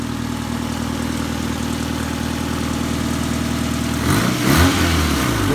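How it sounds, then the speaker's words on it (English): A Toyota AE86 engine idles steadily up close with a low, even rumble and a slight exhaust leak, then a brief blip of revs near the end. "There's a slight leak on the exhaust, but it's okay, we'll figure that out too."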